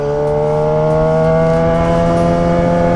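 Suzuki GSX-R600 motorcycle engine holds a steady, loud, close droning hum around 3,500 rpm while riding, with strong even harmonic tones and no break or voice.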